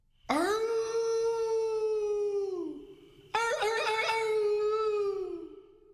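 A human voice imitates a wolf's howl: two long, rising-then-falling wails, the second starting sharply after a brief dip, close and clear.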